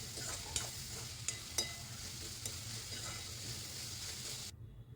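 Garlic, ginger, green chilli and coriander are stirred in a hot pan, a steady sizzle with a few sharp spoon taps against the pan before it cuts off abruptly near the end.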